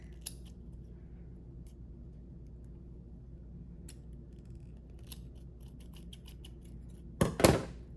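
Scissors snip through duct tape on a tape bracelet, a quick close double cut near the end after several seconds of near silence with faint ticks.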